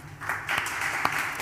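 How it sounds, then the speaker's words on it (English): Warm audience applause greets a speaker at an African identities masterclass, a dense, continuous patter of many hands with a few sharper claps standing out. "please give a warm round of applause to Dr. Precious Moloi-Motsepe."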